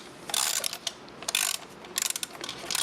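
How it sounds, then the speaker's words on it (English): Ratchet wrench clicking in reverse to back off a valve spring compressor on a 1998 Eclipse GSX 2.4L 4G63 engine, loud close bursts of rapid pawl clicks in several short strokes. "you just want to reverse your ratchet and run this guy right back up"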